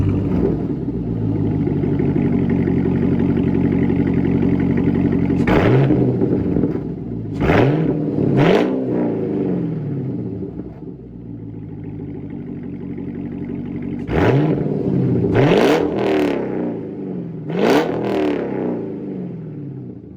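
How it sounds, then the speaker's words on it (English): Cadillac CTS-V V8 with a Stainless Works S-tube cat-back exhaust revved hard while parked, several sharp blips rising and falling over a steady loud idle rumble, no voices. "let this warm up, and I'll set the phone down and we'll get some revs."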